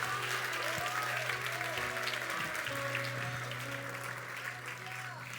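A church congregation applauds the Lord in worship, dense steady clapping with a sustained low tone and scattered voices beneath, gradually easing toward the end.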